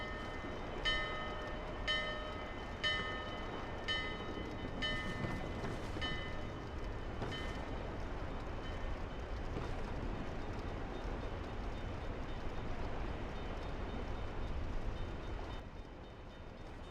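A ghost ship in Dark Souls 2 rumbles like a train, a steady low clatter with a bell-like ringing repeated in the first several seconds, sustained and fairly faint throughout.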